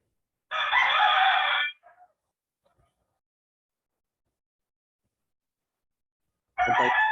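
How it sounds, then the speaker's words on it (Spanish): A rooster crows twice, loud and near. The first cock-a-doodle-doo is followed by a long silence, then a second crow begins. "mata el gallo, hombre"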